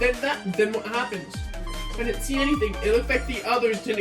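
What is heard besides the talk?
None of the usual background noises is heard.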